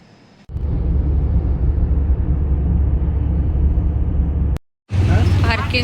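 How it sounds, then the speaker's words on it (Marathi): A steady, loud low engine rumble from arriving cars fills most of the stretch, cutting off abruptly before a brief return with faint voices in the background. "दोन्ही गाड्या आलेल्या आहेत."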